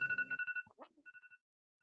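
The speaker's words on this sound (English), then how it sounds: "I thought that was my phone for a minute." A ringtone from a video game, a short electronic melody of bright, clean beeping tones in quick succession, then a brief pause and a few softer repeated beeps, sounding clear and close with nothing else behind it.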